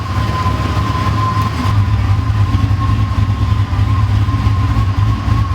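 Pontiac GTO engine idling steadily, a loud continuous low rumble with a faint whine, holding even and unbroken throughout with no voices.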